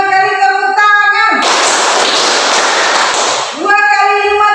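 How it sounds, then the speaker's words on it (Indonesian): A classroom group of pupils claps together in a burst of about three seconds, dense and loud, with a teacher's voice speaking before and after. "lima kali tepuk tangan"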